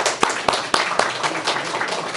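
Audience at a workshop clapping in a short burst, with a few distinct sharper claps spaced roughly a quarter second apart over a steady bed of hands, moderately loud and close, with no talking over it.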